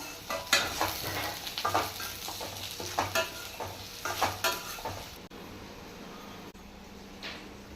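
Potatoes and eggplant frying in oil for a Sunday non-veg feast, a steady close sizzle broken by irregular stirring scrapes and clinks, the crackle easing off in the last few seconds.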